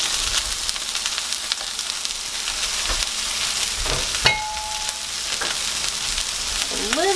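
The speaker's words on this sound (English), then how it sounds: "now we're going to add in our onions. And our mushrooms." Onions and mushrooms fry in a pan for smash burgers, giving a continuous close sizzle with occasional stirring clatter and a brief metallic clink.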